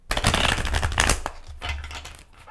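A tarot deck is shuffled by hand in a quick, steady run of crisp card riffles and slides, close and clear, easing off toward the end.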